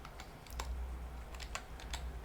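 Soft, quick keystrokes on a computer keyboard typing a domain name, a short burst of close clicks over a low hum with no talk.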